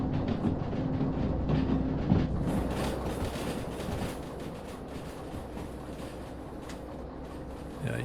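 Long freight train in the Derail Valley simulator rolling steadily along the track, a continuous rumbling drone with faint clickety-clack wheel rhythm and a tonal hum, fairly loud and alone with no talk.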